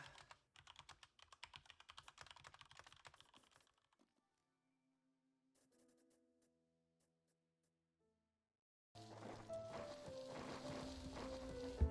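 Keyboard typing in Empires of the Undergrowth: a rapid flurry of crisp key clicks for several seconds, then near silence with faint tones, before a louder burst of mixed game sound returns.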